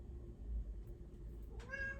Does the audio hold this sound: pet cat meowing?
yes